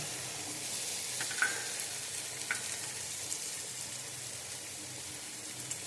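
Two eggs dropped into a hot frying pan for a soybean biryani, giving a steady close sizzle and crackle with a few small pops and no voices.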